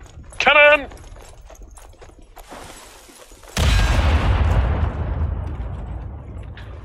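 A voice exclaims, then after a pause a heavy cannon blast in the video game Strange Brigade booms and rumbles away, loud and close, fading slowly.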